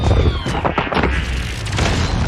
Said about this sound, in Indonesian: Dengan bekal cheat kebal di GTA, Squeaks pun berhasil menghancurkan meriamnya